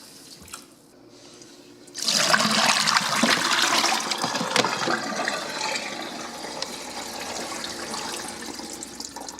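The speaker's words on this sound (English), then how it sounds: "pour a large volume of water down the drain all at once, flood the drain" A large volume of water is dumped into a sink and rushes loudly down the drain all at once, a close gurgling surge that gradually eases into steady draining.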